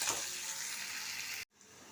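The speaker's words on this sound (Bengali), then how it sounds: "পাঁচফোড়নটাতে সুগন্ধ বেরোতে আমি দিয়ে দিলাম একটা মাঝারি সাইজের পেঁয়াজ সরু করে কাটা" A medium onion, thinly sliced, hits hot oil already fragrant with panch phoron, giving a loud, steady sizzle that cuts off abruptly near the end and returns more quietly.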